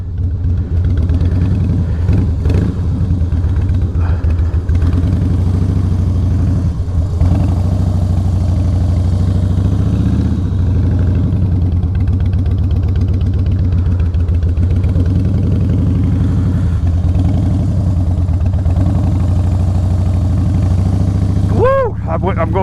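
A motorcycle engine runs steadily as it is ridden around cones, a constant, close low hum with a voice talking over it.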